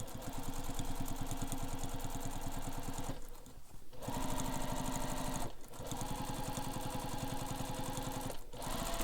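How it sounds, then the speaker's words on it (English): A sewing machine top stitches straight across the upper back panel of a backpack, running in fast steady bursts with two short pauses between runs, close and clear with no talk. "top stitch straight across on top of the upper back D panel"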